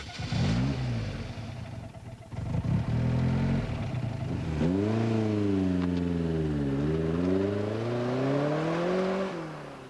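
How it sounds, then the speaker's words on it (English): A 1994 Lotus sports car engine revs up sharply through rising and falling gear sweeps, loud and close, with a brief gap between pulls. "There's very little on the road that will accelerate as quickly as this."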